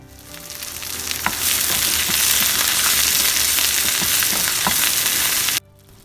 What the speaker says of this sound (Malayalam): ഇനി ഇതിലേക്ക് നമ്മളുടെ ഇല ഇട്ട് കൊടുത്തിട്ടൊന്ന് മിക്സ് ചെയ്തെടുക്കുകയാണ്.